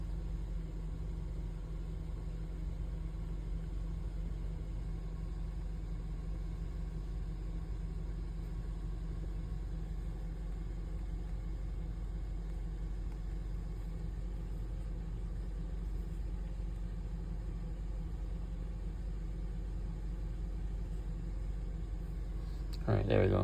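A Ford car's engine idles steadily throughout, a low continuous rumble with an even level, rising briefly at the very end.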